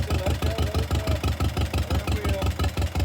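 A John Deere 48M tractor engine idles close by, a steady rapid knocking chug with even pulses and no break.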